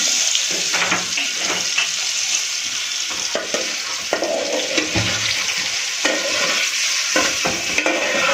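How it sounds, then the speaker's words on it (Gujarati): Paneer frying in a pan with turmeric being stirred in, giving a steady close sizzle with scraping stir strokes throughout. "હળદર એડ કરીશું. અને સારી રીતે હલાવી દઈશું."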